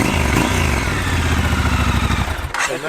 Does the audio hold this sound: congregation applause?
no